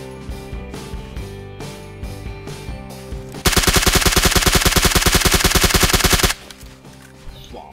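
Rapid automatic gunfire from an M416-style rifle in PUBG Lite on the Miramar map, a loud sustained burst of about three seconds standing out over quieter game ambience and mechanical clicks.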